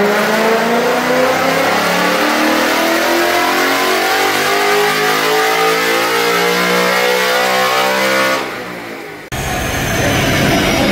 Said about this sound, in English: He's doing a fifth gear pull just to check something out.